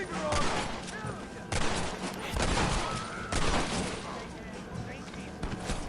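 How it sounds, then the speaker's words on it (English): Gunfire in Red Dead Redemption while enemies are shot down, repeated booming shots in bursts at steady intervals, with talking running underneath. "we gotta be quick on shooting all these enemies and taking them all down"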